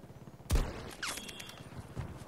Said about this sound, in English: sniping in this game feels amazing, and the headshot indicator sounds even better